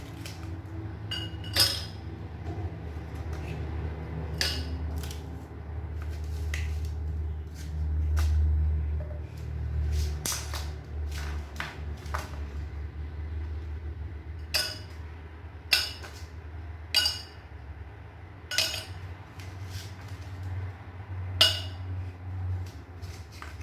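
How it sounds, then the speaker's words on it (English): Ice cubes drop into a glass one by one for an iced mocha drink, making sharp, sparse clinks over a low steady hum from the kitchen, with brief quiet pauses between the clinks. "then we're going to add our ice cubes"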